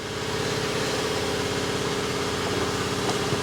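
An air compressor runs loud and steady, a dense, unbroken mechanical drone with a throbbing pulse that keeps going throughout with no gaps and no voices.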